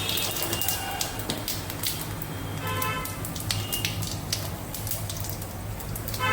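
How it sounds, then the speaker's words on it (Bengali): Whole dried red chillies and whole cumin seeds sizzle in a generous pool of hot oil in a kadai, a steady, fairly soft crackle and spatter with no voices. "দিয়ে দিলাম গোটা শুকনো লঙ্কা, দিয়ে দিলাম গোটা জিরে ফোড়ন"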